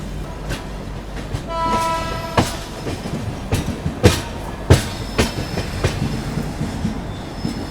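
Chennai Express arriving at MGR Chennai Central station, with steady rumble of wagons, rhythmic clicking over rail joints and a brief horn-like tone, several sharp clanks standing out near the end.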